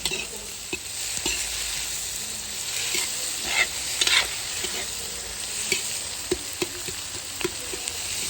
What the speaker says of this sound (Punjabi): ਨਾਲ ਹੀ ਆਪਾਂ ਪਾਤੀ ਸ਼ਿਮਲਾ ਮਿਰਚ ਹਲਕਾ ਸੇਕ ਲਵਾ ਕੇ ਪਿਆਜ਼ਾਂ ਨੂੰ